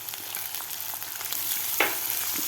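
Chopped onion frying in a pan with asafoetida, ginger and garlic for a cauliflower bhurji, a soft continuous sizzle with light spatula scrapes and one sharper clink near the end.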